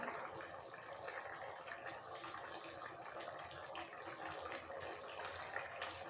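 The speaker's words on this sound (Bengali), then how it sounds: "এইভাবে ফুটতে ফুটতে মাছের ঝোল একদম রেডি হয়ে গেছে" Rohu fish curry with papaya and pointed gourd simmering in a pot, a dense, steady bubbling hiss that runs without a break at close range.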